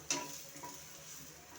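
Meal maker curry frying in a pan, with a low steady sizzle and a couple of light scrapes or taps from a stirring spoon near the start, fairly faint overall.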